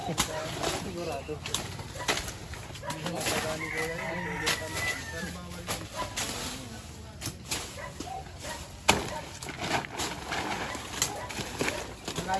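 Chickens and a rooster cluck and crow at a farm during a python rescue, scattered through busy outdoor noise while people talk throughout.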